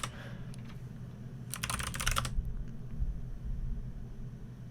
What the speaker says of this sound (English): try typing sudo DH client